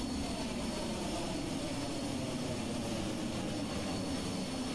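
Loud external drone of a simulated airplane engine in Microsoft Flight Simulator 2020, heard from outside the aircraft as a steady, dense roar that holds without a break.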